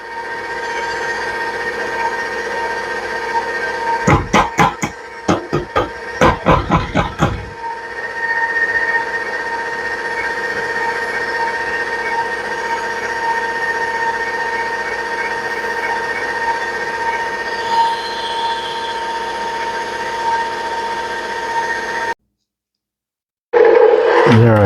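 Stand mixer beating gluten-free brioche dough on medium-high speed, a steady loud motor drone with a burst of rattling knocks early on, then a sudden brief cut near the end.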